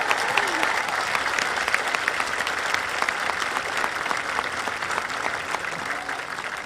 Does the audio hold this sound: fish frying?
no